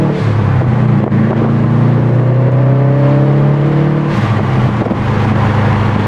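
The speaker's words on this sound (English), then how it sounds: "let's take this car out for a test drive and see what it sounds like" A Subaru WRX STI fitted with a Greddy blow-off valve pulls hard on a test drive, its engine note climbing steadily in pitch, easing briefly near the four-second mark, then rising again, loud and close throughout.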